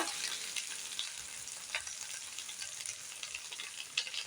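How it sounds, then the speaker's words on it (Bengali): Mixed vegetables for shukto, including potato, radish, flat beans, eggplant, drumsticks, yardlong beans and sweet potato, fry with salt in a pan, giving a soft, steady sizzle close by with a few light scraping taps. "নুনটা দিয়ে সবজিগুলো ভেজে নেব।"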